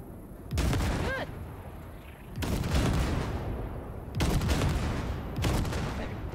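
Gunfire blasts ship wrecks in Cyberpunk 2077, four loud separate bursts of booming shots spaced a couple of seconds apart, each trailing into a rumbling decay, with no voices over them.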